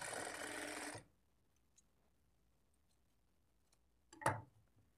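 A sewing machine runs briefly, stitching a butterfly latkan hanging: a short close burst of rapid whirring at the start, then near silence broken by a faint click and a brief rustle of handling.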